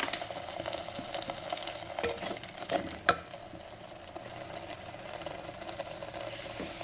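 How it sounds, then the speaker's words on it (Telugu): Onions fry gently in a pan with salt and turmeric for a crab curry, giving a soft, steady sizzle with a few light stirring clacks. There is no talking. "ఇదంతా ఉల్లిగడ్డ వాసన పోయే వరకు మనం వేయించుకుందాం"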